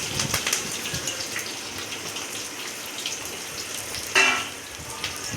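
Steady broadband hiss of oil frying for a mutton curry, with a brief louder sizzle surge near the end as chopped shallots are added to the pan.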